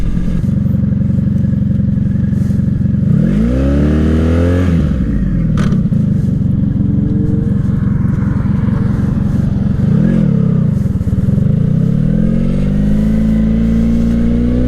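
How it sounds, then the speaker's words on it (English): A motorcycle engine idles loudly and steadily nearby, rising into revs twice, with a sharp clack in between, likely a gear shift while practicing clutch friction-zone control at a motorcycle safety course. "turning the motorcycle on and duck walking it that way using the friction zone with the clutch"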